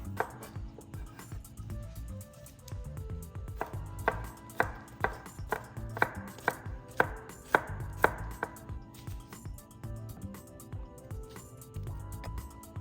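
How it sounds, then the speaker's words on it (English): A knife finely minces a crushed, peeled garlic clove on a cutting board, a run of quick, even, soft taps close by, clustered in the middle and thinning toward the end. "we're going to finely mince the garlic"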